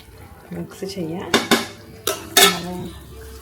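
Omelet curry is mixed in a pan with a metal utensil, giving a handful of loud clanks and scrapes against the cookware alongside soft stirring.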